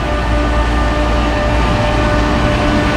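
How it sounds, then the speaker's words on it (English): Trane Series R screw compressor air conditioning units run loudly outdoors in Houston. The drone is steady and close, with a low rumble and constant tonal whine, and no one speaks. "Big old screw compressor."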